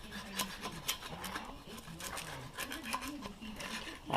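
Clear coat is being sanded off a BMW E39 alloy wheel rim, making close, rhythmic rasping strokes that repeat steadily back and forth.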